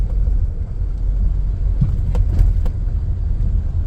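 A vehicle driving along toward a soybean field during a late 2025 harvest, a steady low rumble of engine and road noise from inside, with a few faint rattles.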